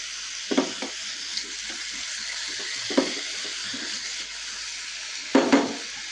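Chicken pieces frying for shawarma in a pan over a high flame, a steady broad sizzle throughout with a few louder stirring crackles and scrapes, close up and without talk.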